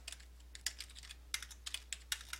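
A computer keyboard being typed on: quick, irregular bursts of light plastic clicks close by, over a faint low hum, with no speech.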